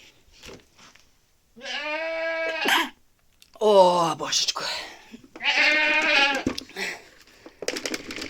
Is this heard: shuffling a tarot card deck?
no